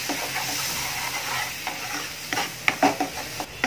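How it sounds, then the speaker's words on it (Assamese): A ground onion and tomato paste mixture sizzles in a pan while being stirred, a steady frying hiss with a few scraping clicks of the spoon near the end, close and alone. "ভালদৰে লৰাই দিম।"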